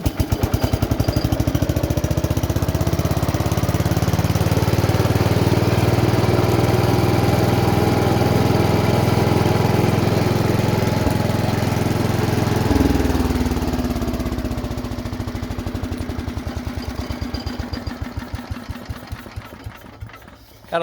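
A Squire 9 engine running steadily after a second start attempt, a loud, even mid-pitched chugging drone that drops slightly in pitch partway through and then slowly fades toward the end.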